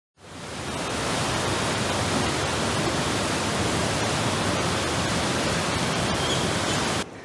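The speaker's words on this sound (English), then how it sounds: "It's the river, the sounds of the river." A river flowing near a room in Chachapoyas, Peru, a steady broadband rushing wash that fades in and holds at an even, moderate level before cutting off abruptly.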